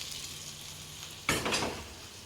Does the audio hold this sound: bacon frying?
yes